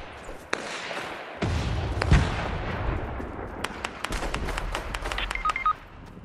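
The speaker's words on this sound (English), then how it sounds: "Oh my god, people are shooting at me." Gunfire in the Fortnite video game: sharp shots crack in a busy burst, with several sudden loud reports and rapid ticking hits over steady game noise, including a pulse of low booms near the middle.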